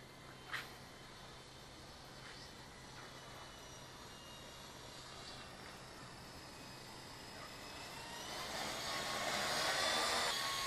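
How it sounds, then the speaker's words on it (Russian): A WLtoys V912 brushless RC helicopter hovering, a steady high-pitched motor whine humming continuously, swelling louder toward the end, close by. "Ну вот, вроде он у нас висит. Ух, мощность чувствуется."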